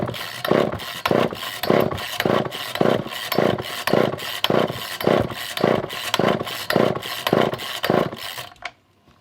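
A Poulan 2000 chainsaw that won't start has its starter cord yanked again and again, a quick, even run of about sixteen raspy pulls, loud and close, with no voices.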